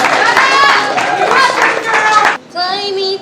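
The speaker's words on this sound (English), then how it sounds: "Can we give a round of applause for Adriana?" An open-mic audience claps and cheers for a performer, a dense, close burst of hands and voices that cuts off abruptly, followed by a brief sustained tone as someone starts to sing.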